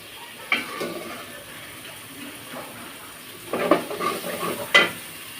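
Spices cook with salt and a bay leaf in a pan, giving a soft steady sizzle. Occasional louder stirring scrapes and clinks break in, with no one speaking.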